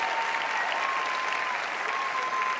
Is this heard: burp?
no